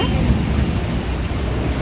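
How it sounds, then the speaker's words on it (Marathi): Heavy rain pours down steadily in a village in Banval, a dense, continuous hiss with a low rumbling undertone. "इथं जोरात पाऊस पडतोय"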